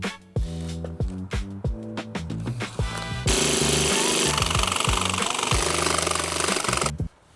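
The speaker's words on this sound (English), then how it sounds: "I'm not the best with a jigsaw" A jigsaw cuts out part of a 2017 Toyota Tundra truck seat, loud buzzing bursts that start and stop in short stuttering pulses, then one long sustained harsh cut before stopping abruptly.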